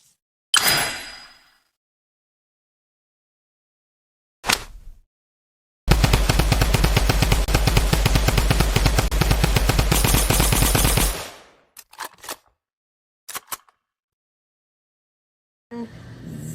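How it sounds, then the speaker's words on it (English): Drum gun fire in the Fortnite video game: one long, loud burst of rapid automatic shots lasting about five seconds, with a few short clicks and gun handling sounds before and after, and no talking. "Shadow Knight's drum gun, Midas's Gilding Eye drum gun, and Midas's modular drum gun."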